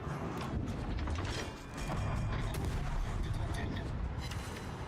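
Heavy gunfire from ships in a naval warship video game booms over a dense, continuous rumble, with mechanical clanking and overlapping game noise throughout, while voices talk.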